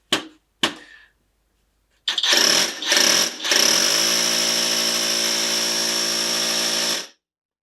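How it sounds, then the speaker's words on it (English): Two short bursts of a WAKYME cordless hammer impact drill, then a loud, sustained high-pitched rattling knock as it drives into timber for several seconds, up close. "So the high pitch knocking noise is actually the hammer doing its job."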